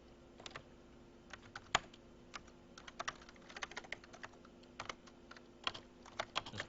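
Typing on a computer keyboard while text is entered in 3D modeling software. The keystrokes are soft, scattered and irregular, with one sharper tap standing out, and the background is otherwise quiet.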